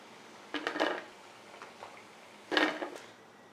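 Metal spoon or slotted ladle clinking against a pan while scooping crispy lemon chicken fry pieces out of hot oil, two sharp clattering bursts with softer scraping between.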